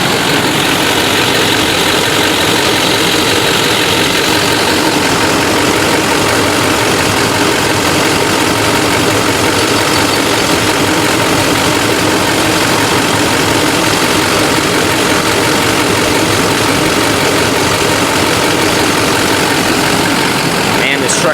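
A 2004 Duramax LLY diesel pickup idles with the hood open, giving a steady, even rumble that holds without revving for the whole stretch at a moderate, close level.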